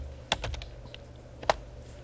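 Computer keyboard keys tapped while entering a scale command in drafting software: two distinct clicks with a few softer taps between, close and faint.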